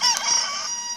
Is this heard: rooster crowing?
yes